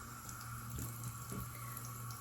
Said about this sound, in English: And I just run the water lightly.